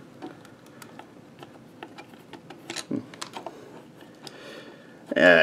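Self-tapping screws are backed out of a Fluke 17B+ multimeter case with a screwdriver, giving close, quiet ticking and ratcheting clicks in an irregular series, followed by a louder rustle of handling at the end.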